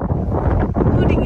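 Wind gusts at a foggy mountain campsite, heard as a brief, dense low rumble buffeting the microphone up close.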